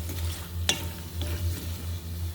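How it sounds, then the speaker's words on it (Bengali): Stinging catfish pieces and potatoes are stirred and sautéed in a hot pan for a fish bhuna, with a low oil sizzle and a sharp spatula scrape or two, close by and with no talk. "মাছগুলোর সাথে দিয়ে দিচ্ছি আলুগুলো, দুটোটাই নেড়ে চেড়ে"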